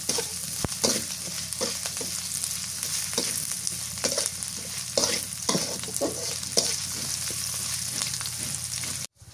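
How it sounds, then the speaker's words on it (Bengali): Dried fish frying in oil with onion and chili gives a steady, close sizzle, with repeated scraping stirs through the pan, until the sound cuts off abruptly at the end. "শুটকিটা কাঁচা তো তেলের মধ্যে ভেজে নিতেছি, পেঁয়াজ মরিচের সাথে ভাজলে"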